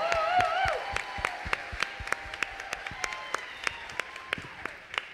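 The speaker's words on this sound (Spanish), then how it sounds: "Dele fuerte un aplauso, dele fuerte el aplauso." Audience applause at the Premios Influenzando 2019 awards ceremony: a dense, sustained wash of clapping with a steady rhythmic beat of sharper claps running through it, fading slightly toward the end.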